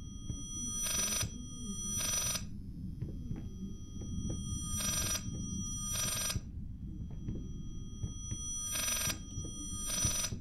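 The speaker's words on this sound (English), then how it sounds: "Will somebody answer the goddamn phone?" A telephone bell rings in repeated bursts, six loud metallic trills about a second each with gaps between, over a low steady background hum.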